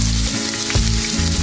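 Chopped onion dropped into a hot tempering of cumin and oil for a spinach-potato fry gives a loud, close, continuous frying sizzle with a brief stirring stir-up in the middle.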